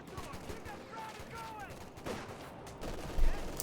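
Automatic BAR rifle fire from Pathfinder infantry in Company of Heroes 2, popping in scattered bursts amid a busy battle mix, with a heavier thump near the end and a commentator's voice running underneath.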